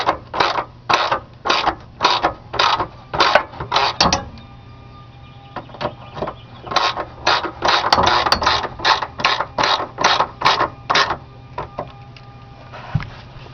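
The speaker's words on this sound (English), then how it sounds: "And now you take your ratchet. Your 12mm socket." A ratchet with a 12mm socket works the rear sway bar bolts on a 1999-2003 Toyota Solara V6, giving close, rhythmic bursts of clicking strokes in two runs separated by a short pause.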